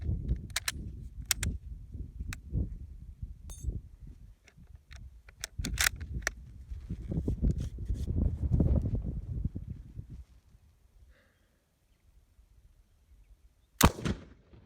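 Chinese 8mm surplus ammunition from factory 451 fires in a string of sharp, brief shots with some rumble between them, then goes quiet for a few seconds before one more loud crack lands late as a hangfire.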